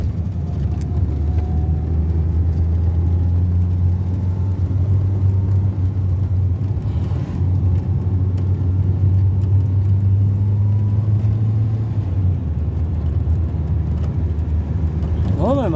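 A car engine hums steadily as the car climbs winding mountain roads like a hill climb, a low rumble held inside the cabin with road noise, easing off near the end.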